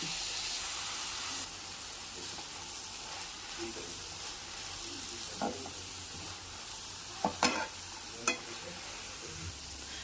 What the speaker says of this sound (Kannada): ಇದ್ರ ಜೊತೆಗೆ ನಾನು ಶುಂಠಿ ಮತ್ತು ಬೆಳ್ಳುಳ್ಳಿ ಪೇಸ್ಟನ್ನ ಸೇರಿಸ್ಕೊತಾ ಇದ್ದೀನಿ